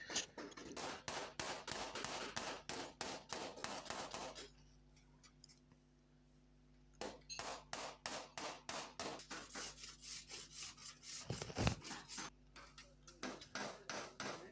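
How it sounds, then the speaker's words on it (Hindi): Rhythmic scraping and rubbing strokes on a car body panel being sanded smooth after dent removal in a workshop, repeated quick passes with a brief pause midway, loud and close. "ये देखें यहाँ पे अब ये रगड़ाई कर रहे हैं"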